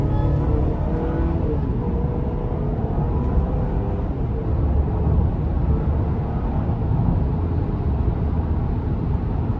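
A 2025 Chevy Traverse LT pulling away from a stop, heard from inside as a loud, steady engine and road rumble that holds throughout with no talking.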